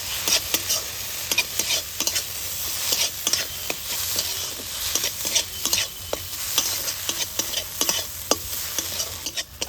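A spoon scrapes and stirs a sizzling filling in a frying pan with tomato sauce and soy sauce added, for egg paratha. Steady frying hiss with frequent irregular close scrapes and taps, no talk.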